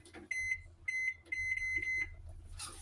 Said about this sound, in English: so let me set the timer.